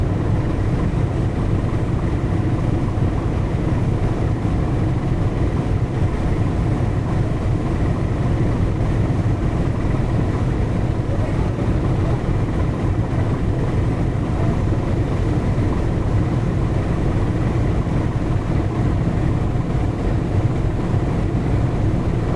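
Large luxury passenger launch MV Moyur 10 on the Dhaka–Chandpur river route, heading toward the Eidgah ferry ghat, gives a steady, continuous low engine rumble and drone that holds unchanged throughout with no voices.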